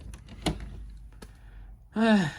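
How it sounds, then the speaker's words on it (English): A reptile enclosure door slides and thunks shut with a few light knocks first, followed by a louder scraping slide of the glass panel at the end. "Close this door so she doesn't get out."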